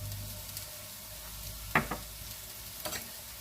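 Eggplant slices fry in a pan with a soft, steady sizzle, broken by a couple of sharp clinks from a utensil against the pan.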